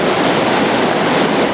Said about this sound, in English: And it's that groundwater supply that keeps Dolan Falls churning out thousands of gallons of water per second